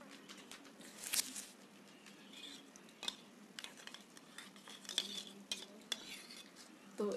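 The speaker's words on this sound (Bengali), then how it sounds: "তো এইটা আমি এর মধ্যে পুরোটা মিশিয়ে দিলাম।" Spoon scraping and clinking against a pot while fish curry is stirred and mixed at home, a quiet series of irregular taps and scrapes with no talk.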